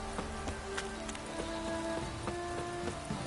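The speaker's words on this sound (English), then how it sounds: "This downpour's a bastard" A rain downpour falls in The Witcher 3 on PS5: a steady, soft hiss of rain with scattered drop ticks, alongside faint hoof clip-clops.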